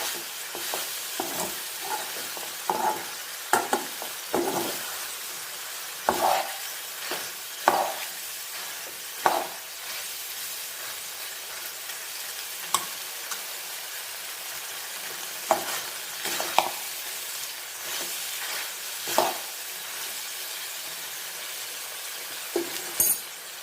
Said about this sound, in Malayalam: ഇനി നമുക്ക് കുറച്ച് വെളിച്ചെണ്ണയും കൂടെ ഒഴിച്ചു കൊടുത്ത് നന്നായി മൂപ്പിച്ച് വാങ്ങും.